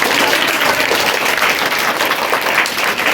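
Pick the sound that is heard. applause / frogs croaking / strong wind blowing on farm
applause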